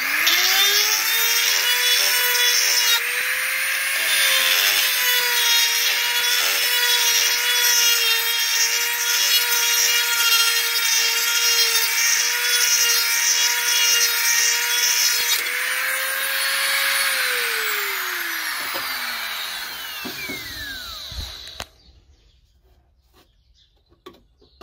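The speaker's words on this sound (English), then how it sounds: "so I'm just going to use my Dremel." A Dremel rotary tool enlarging a hole drilled too small by a 20 mm hole saw, during a Vespa electric conversion. It gives a loud, steady high whine with grinding for about seventeen seconds, then the pitch falls as the tool spins down and stops.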